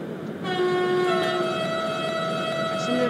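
Vectron locomotive horn in the Open Rails train simulator game blows a loud, sustained multi-tone blast that holds steady for nearly three seconds before cutting off.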